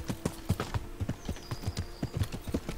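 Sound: horse hooves clip-clopping while riding, from video game Kingdom Come: Deliverance

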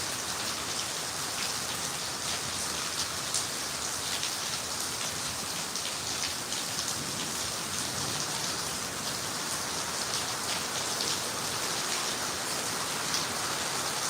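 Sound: heavy rain

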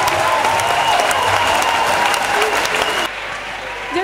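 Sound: audience applauding and cheering for Jesus Christ

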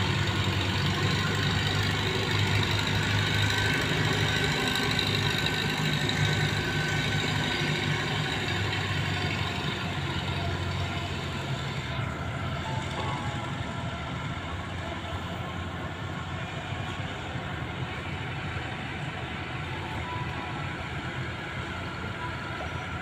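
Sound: boat engines running on the river

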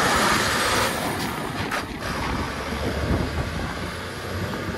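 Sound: old tractor engine sounding like a steam train

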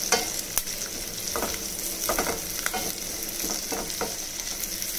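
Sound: onions frying in a pan

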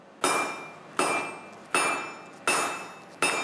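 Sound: hammer forging metal on an anvil

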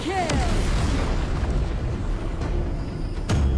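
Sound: tower destroyed in the video game ROV (Arena of Valor)

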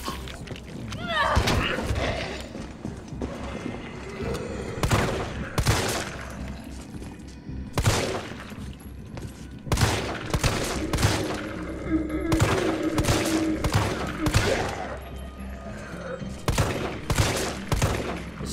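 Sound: gunfire in the video game Resident Evil 3 Remake

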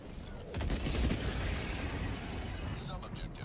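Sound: airstrike explosions in video game Helldivers 2

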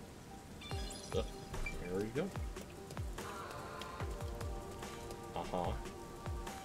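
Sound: constant rain in a video game

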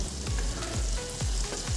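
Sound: food frying in a pan

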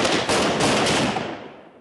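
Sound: gunfire during commando fire-and-move drill

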